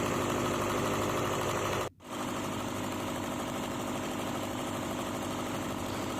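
A diesel generator idles with a steady mid-pitched drone and faint rhythmic knocking from the piston, briefly dipping in level once before settling back to an even hum.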